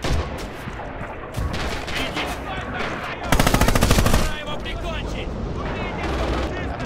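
A machine gun rattles in Red Orchestra 2 on Mamayev Kurgan, with a fast, loud, close stream of shots for about a second amid constant battlefield gunfire and explosions, and faint voices mixed in.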